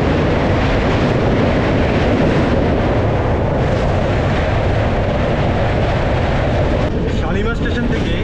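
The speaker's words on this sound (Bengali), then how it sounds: "ট্রেন এখন এসে ঢুকছে খড়গপুর স্টেশনে" Dhauli Express train pulling into Kharagpur station, a loud, steady rumble of wheels and carriages that fills the whole stretch, with a slight change in texture near the end.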